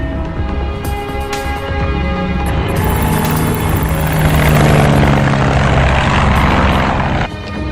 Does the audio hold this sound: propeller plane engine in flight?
yes